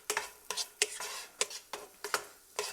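A spatula stirs onions and garlic in a pan, making regular scraping strokes about every half second against the pan over a faint sizzle, close and clear.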